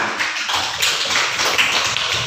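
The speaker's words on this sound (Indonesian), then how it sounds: "Terima kasih kepada kelompok 1, berikan tepuk tangan" A group in a classroom claps for the first group, a dense continuous patter of hand claps held at one close, fairly loud level without talk.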